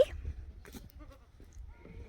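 A few short goat bleats, near and fairly faint, over low rumbling background noise with no talk.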